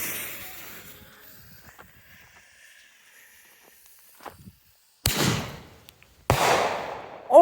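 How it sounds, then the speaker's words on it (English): Firework artillery shells lit before New Year's: two sharp, loud bursts a second apart after a quiet stretch, each a broad crackling blast that decays over about a second, followed by a rising whistle-like tone. "We'll go ahead and see how the second shell does here."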